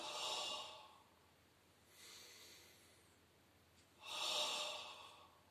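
Three strong breaths during a Pilates thoracic breathing exercise, a forceful inhale or exhale, then a softer one, then another hard one, each a close, airy rush with quiet pauses between.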